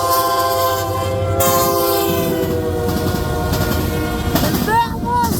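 A CN SD75IACC rebuilt locomotive rumbles past at close range, heavy engine drone and rail clatter filling the scene, with a train horn and wheel squeal rising near the end.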